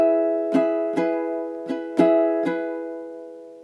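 A ukulele strums one held chord five times in a down-up pattern for bar 28 of a song, each stroke bright and close and ringing out between strokes, with no voice.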